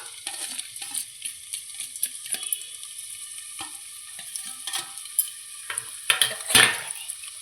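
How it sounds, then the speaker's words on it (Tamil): Two large onions, sliced long, sizzle in melted oil and ghee in a cooker, with soft continuous frying crackle punctuated by scraping stirs of a spoon against the pot. "இப்போ எண்ணெயும் நெய்யும் நல்லா மெல்ட் ஆகிட்டு இப்போ நம்ம நீள நீளமாக கட் பண்ண 2 பெரிய வெங்காயம்"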